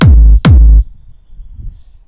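Two punchy trance kick drum hits from a Vengeance sample pack, dry and unprocessed, each a deep booming thump in quick succession, followed by a faint noisy tail.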